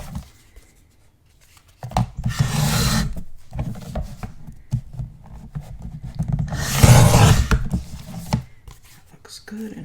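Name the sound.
trimming uneven paper edges of a mini album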